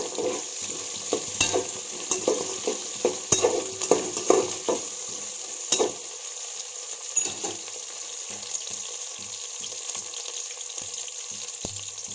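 Curry leaves frying in a pan for a mushroom biryani, with a clear sizzle and stirring scrapes in the first half. The sound eases to a steadier, quieter hiss with occasional clinks later.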